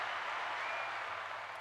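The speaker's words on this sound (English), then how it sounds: "Hand claps always for Ashanti." Hand-clap sound effect dropped into a celebrity gossip show, a steady dense wash of applause-like clapping that carries on evenly through the short clip with nothing else over it.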